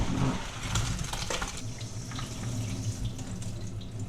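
Boiled spiral pasta drained of its water, a continuous splashing pour into a sink, close and moderately loud, with a few drips and clatters.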